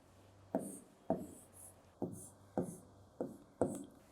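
A teacher writing an answer for a grade 2 addition lesson: six crisp, evenly spaced taps and short strokes, close and fairly quiet, with no talking.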